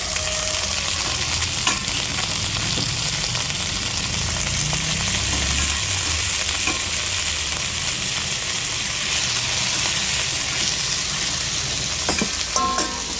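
Chicken pieces for adobo sauté in a hot pan, a loud continuous sizzle and fry with occasional clinks and stirring scrapes throughout, no talk over it.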